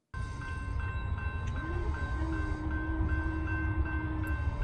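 A train passes a railroad crossing, giving a steady loud rumble throughout, with a pair of sustained horn-like tones held over it and a brief squeal midway.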